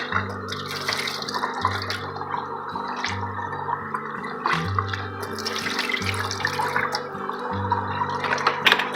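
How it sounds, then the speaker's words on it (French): Cold water runs and splashes while homemade goat milk butter is rinsed by hand, giving an uneven gurgling, sloshing patter close up, with no talking. "je vais la rincer à l'eau froide"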